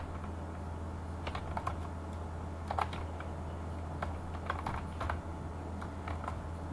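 Quiet typing on a computer keyboard, scattered key clicks in short irregular bursts over a steady low hum, with no talking.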